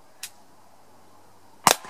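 An Umarex HDP 50 pistol fires through a can: a faint sharp crack early, then a louder, close report with a brief metallic ring about a second and a half later, in an otherwise quiet setting.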